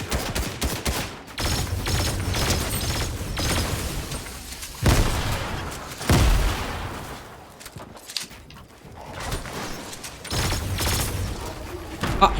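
Rapid bursts of gunfire from a weapon in Fortnite crackle continuously in dense, loud volleys with brief pauses between them.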